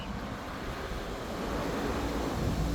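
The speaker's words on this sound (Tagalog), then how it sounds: "Nandito tayo ngayon sa tabing dagat." Ocean waves washing onto a beach, a steady broadband roar that swells slightly louder toward the end, with wind noise and no voices.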